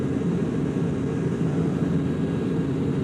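Boeing B-47 Stratojet jet engines at full throttle in the X-Plane flight simulator, a steady, loud, dense roar that holds unbroken and even for the whole stretch, with no voices over it.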